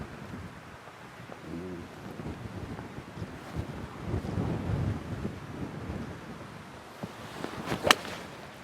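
Wind blows across a golf course as a soft, gusty rush over the microphone, with a sharp crack of a club striking a ball near the end.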